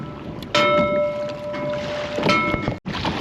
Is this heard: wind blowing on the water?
yes